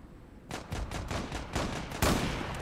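Gunfire in the Zula video game's sniper mode: after a quiet start, a rapid series of loud, close shots cracks out, ending with one especially strong blast.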